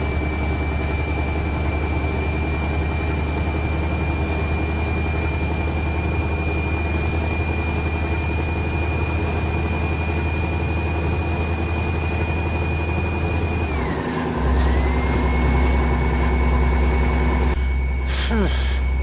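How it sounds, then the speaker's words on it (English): A 730-horsepower heavy-haul truck engine in Euro Truck Simulator 2 labours up a steep grade with a steady, loud low drone and a whining tone, then shifts down near the end with a drop and renewed roar. "We're still dropping gears. Mind you, this is a 730 horsepower engine."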